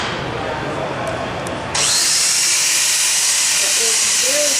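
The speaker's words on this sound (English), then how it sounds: "I'm not going to get gouge marks with this flap disc." A 60-grit flap disc on a power carver grinds across a wooden spoon, first as a softer whir, then a loud, steady, hissing abrasive roar that holds without a break.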